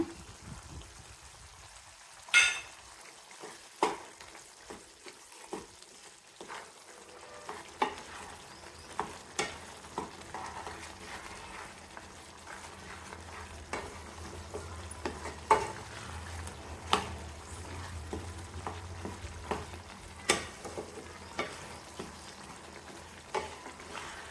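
Roasted ground masala fries in a pan of country chicken curry while a spoon stirs it. Soft sizzling runs underneath, with scattered scraping clinks of the spoon against the pan.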